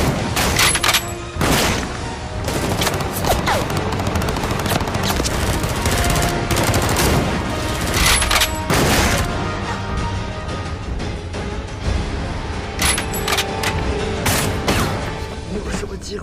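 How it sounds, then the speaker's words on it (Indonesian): Soldiers fire on troops from a distance in an action film, with a long-range sniper rifle among the guns: a dense, loud barrage of automatic bursts and single shots runs throughout, rising into heavier volleys. "Anna yang kini di tempat senapan jarak jauhnya berada mulai menembaki pasukan Roger dari kejauhan."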